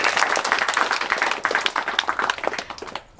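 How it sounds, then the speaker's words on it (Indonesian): Audience applause at a Ramadan religious gathering with a Quran study group, dense steady clapping from many hands that fades out near the end. "Kita berikan tepuk tangan terlebih dahulu."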